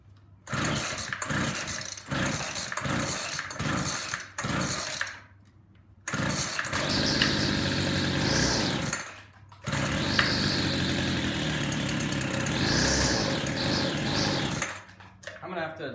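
A WeedEater FX26C string trimmer fitted with a new carburetor and fuel lines is pulled over in a burst of rapid tugs, then catches and revs loudly in two long runs, refusing to idle and dying between them.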